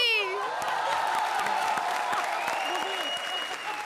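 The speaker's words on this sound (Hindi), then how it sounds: "A big applause for Rohit Shetty" A studio audience at a televised comedy show breaks into sustained, loud applause with some cheering, while a host speaks over the clapping.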